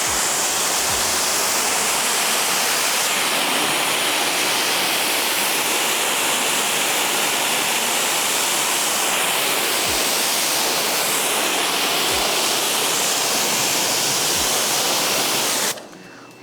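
A pressure washer lance rinses car wheels with a loud, continuous hissing spray that holds steady nearly throughout before cutting off at the very end; no speech.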